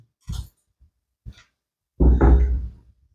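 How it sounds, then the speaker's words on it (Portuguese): A door pushed shut indoors: two light taps or creaks, then one loud, close thud of the door closing, with nobody talking. "deixa eu fechar essa porta"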